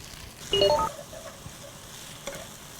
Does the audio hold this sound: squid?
yes